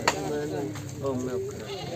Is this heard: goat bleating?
yes